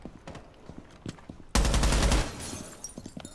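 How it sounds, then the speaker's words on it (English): Gunfire in Rainbow Six Siege, a loud sustained burst of automatic shots that breaks in suddenly after a stretch of quieter footsteps and movement, then fades into lighter clatter. "Somebody's shooting at me."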